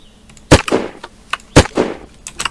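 Two sharp, loud gunshots fire about a second apart in a first-person shooter video game, each a crisp crack trailing into a short echo, followed by fainter clicks and taps.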